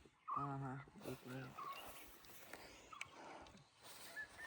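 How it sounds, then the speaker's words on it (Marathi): A dog on the Rajgad–Torna mountain trek gives two close, whiny barks at the start, followed by softer outdoor rustle and faint murmuring voices in the background. "कुत्रा आलाय आम्हाला बोलवायला."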